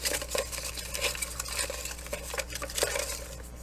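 Slips of paper are shuffled and stirred by hand before a draw, giving a steady run of close, light rustles and crinkles with soft taps over a low background hum.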